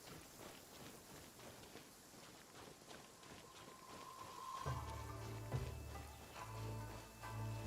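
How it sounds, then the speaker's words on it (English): Rain falls steadily in a video game, a soft continuous patter at low level, joined partway through by a low droning hum and faint wind. "rain won't slow me down"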